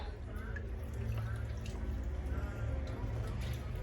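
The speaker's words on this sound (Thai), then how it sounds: "บีบน้ำให้ออกให้เยอะที่สุดนะคะ" Washed raw pork is squeezed by hand, giving a soft, continuous trickle and drip of water close by, low and steady.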